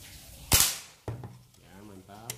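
One sharp shot from a bullpup air rifle with a 50 cm barrel, charged to 3500 psi, snaps out, followed by a smaller impact crack, then brief speech near the end.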